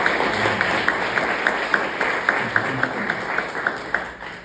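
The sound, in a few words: audience applause after a presentation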